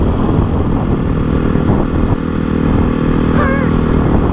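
Honda CRF 450 motorcycle engine droning steadily while riding on the road, a loud continuous rumble with wind buffeting the microphone throughout.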